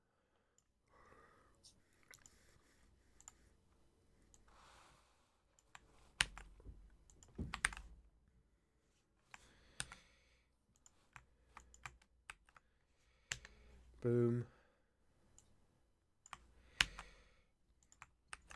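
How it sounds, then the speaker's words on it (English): Keys clatter on a working computer keyboard in quiet, irregular bursts of typing and clicks, close and faint, with a single brief spoken word. "Love hearing that sound of a working keyboard"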